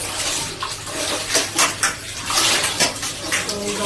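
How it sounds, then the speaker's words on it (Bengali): Dishes, pots and pans scrubbed and rinsed at a home kitchen sink at night, with running water and repeated clinks and clatters of metal utensils, close and fairly loud throughout. "বাসন টাসনগুলো মেজে নিই।"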